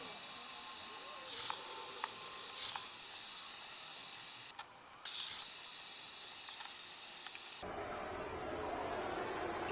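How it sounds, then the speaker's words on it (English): Torch heat and penetrant spray applied to a seized frame bearing on a Yamaha XJ650 motorcycle, a steady close roaring hiss with brief crackles and a short gap, shifting to a harsher rushing hiss near the end. "So let's hit it with some heat and some penetrant."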